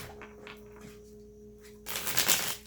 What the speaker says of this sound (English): Let's just shuffle a couple more times.